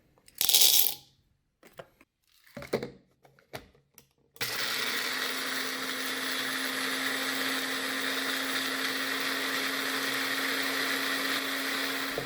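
A few clicks and rattles, then a blender starts grinding coffee beans steadily at high speed, a loud continuous whir full of rattling beans.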